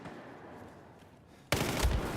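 Video game gunfire lands a headshot: after a stretch of dull background hiss, a sudden loud, dense burst of shots erupts and rattles on until the end.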